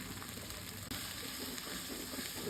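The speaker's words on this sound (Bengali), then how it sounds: "এখন এটার মধ্যে এই যে ভাজা মাংসটা দিয়ে কষাবো ভালো করে।" Ginger-garlic paste, green chili and tomato sauce sauté in a pan, giving a steady, dense sizzling hiss with faint stirring, nearby but low in level.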